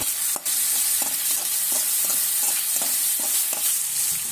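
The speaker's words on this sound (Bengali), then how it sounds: "এক টেবিল চামচ রসুন বাটা, 1 টেবিল চামচ আদা বাটা দিয়ে খুব ভালোভাবে মশলাটাকে কষিয়ে নিতে হবে।" Garlic paste and ginger paste frying in oil as a spice mix for chicken bhuna, with a steady bright sizzle punctuated by regular scraping strokes of a spoon being stirred through the pan, close and unaccompanied by voices.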